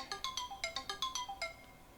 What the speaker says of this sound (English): Pay no attention to the alarm.